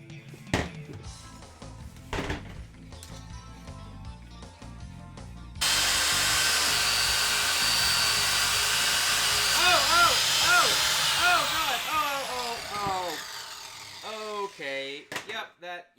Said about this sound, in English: I still need to fine-tune the settings on the grinder before I give up on this one